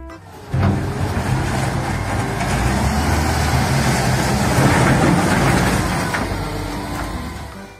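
A toy loader vehicle's engine rumbles steadily at close range, starting abruptly after a short quiet moment and holding a constant motorized drone with no voices.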